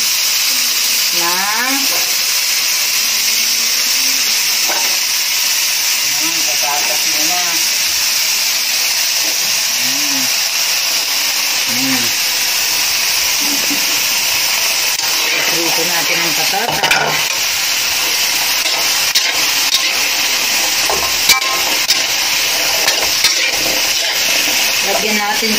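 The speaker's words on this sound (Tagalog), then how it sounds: "Ito namang patatas. Patatas. Ipreto natin" Potatoes frying in a pan for menudo, a steady loud sizzle and hiss of hot oil running without pause, with a person talking over it throughout.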